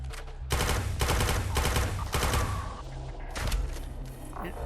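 Handgun fire in the VR shooter Quantum Threshold: several quick volleys of sharp shots in clustered bursts with brief gaps, moderately close amid game noise.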